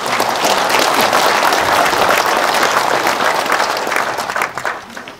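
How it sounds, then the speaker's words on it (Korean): Audience at a Korean nuclear-development symposium applauding four presenters, a loud, sustained wave of many hands clapping that fills the hall and then thins and tapers near the end. "우리 네 분 발표자를 큰 박수로"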